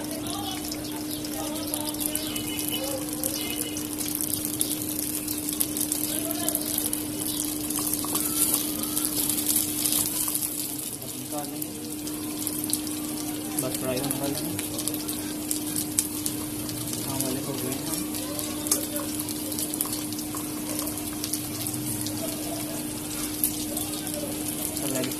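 Pinwheels frying in hot oil with a steady, broad hiss and bubbling that runs throughout at moderate level, joined by a constant low hum, with faint voices now and then.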